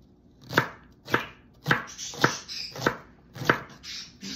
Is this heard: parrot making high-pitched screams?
no